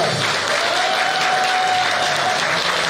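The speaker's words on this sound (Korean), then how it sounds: "박수 부탁드립니다" Steady, dense applause from a large crowd of party members at a political party's founding convention, continuous and loud throughout with no gaps.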